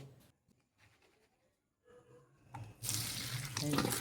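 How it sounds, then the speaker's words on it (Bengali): Chopped vegetable peels, potato and pumpkin, being washed in plenty of water in a kitchen, quiet handling sounds first, then a loud running, splashing rush of water over the last second or so. "এবার বেশি জলে ধুয়ে পরিষ্কার করে নিচ্ছি।"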